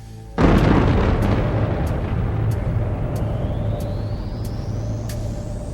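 An explosion sound effect for the Big Bang, the birth of the cosmos, hits with a sudden loud blast and then rolls on as a long, dense roaring rumble with a rising whine, slowly fading.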